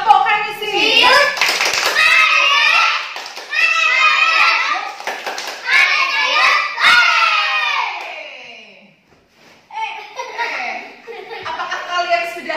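Schoolchildren in a classroom perform a rhythmic clap chant together, loud young voices shouting in unison with claps, broken by a brief pause before the chanting resumes.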